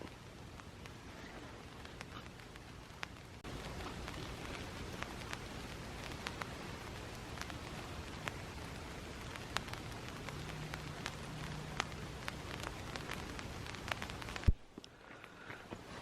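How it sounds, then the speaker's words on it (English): Cold rain falls steadily at a campsite along the Horsethief Springs Loop Trail in Oklahoma, a continuous close patter on the surface that runs alone, with a sharp knock near the end before it quiets. "It was raining already on us, and it's pretty darn cold."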